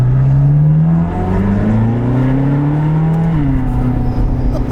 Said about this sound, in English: You're driving a topless Ferrari.